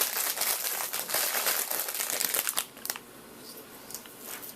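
Thin plastic packaging around a computer Molex power connector is cut open and crinkled, giving a close, busy rustle for over two seconds that then drops to a few scattered soft crackles.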